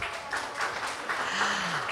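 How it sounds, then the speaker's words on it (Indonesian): Applause from a conference audience, a short burst of scattered hand claps with a voice faintly mixed in, moderately close and fairly even for two seconds. "tepuk tangan dulu dong"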